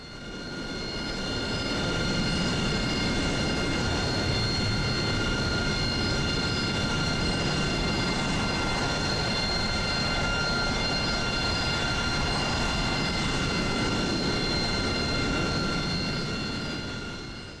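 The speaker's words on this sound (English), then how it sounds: "And there goes the second Harrier." A Harrier jet takes off in the DCS World flight simulator with a loud, steady roar layered with high, even whining tones. It holds for about seventeen seconds, close and continuous, with no talk.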